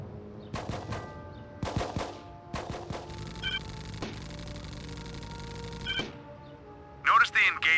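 Squad rifle fire at an enemy in the video game Full Spectrum Warrior, several short bursts of shots early on, then a lull filled with electronic tones and a few later shots.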